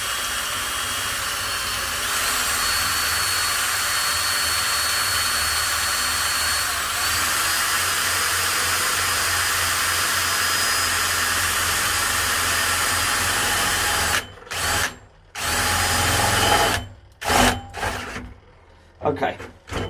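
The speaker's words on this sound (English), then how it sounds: "I'm going to go right in the very centre here and drill" A hole cutter on a loud, steady whirring drill grinds into a hot water cylinder continuously for a long stretch, then cuts out and restarts in several short bursts near the end.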